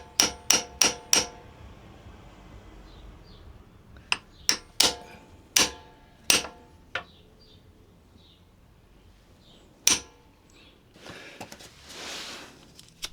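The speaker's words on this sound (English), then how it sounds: "now I'm just going to gently persuade it in with the hammer" Sharp hammer taps ring out in small clusters, a quick triple then scattered single knocks, gently driving an oil sight glass into a BMW R1150 motorcycle engine, close and clear against a quiet background with faint rustling near the end.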